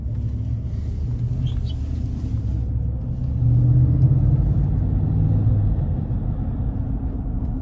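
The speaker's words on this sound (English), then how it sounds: "even with this 8-speed automatic, still really good acceleration when I put my foot down on it" A 2016 GMC Yukon with an 8-speed automatic and about 123,000 miles accelerates, giving a steady low engine rumble and road drone from inside the cabin that swells louder around the middle of the stretch and then holds.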